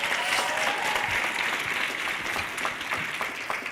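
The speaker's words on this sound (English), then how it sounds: "Give them a round of applause" Graduation audience at the Eagle Academy spring ceremony applauding the staff, a broad sustained wash of many hands clapping, even and loud throughout with no voice over it.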